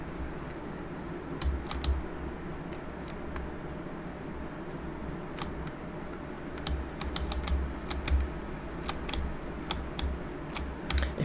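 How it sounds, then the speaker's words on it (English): Keys on a computer keyboard tapped in short scattered bursts during a DCS flight simulator session, with quick clicks standing out over a steady low hum. "I'm just going to use Z and X on the keyboard to keep ourselves straight"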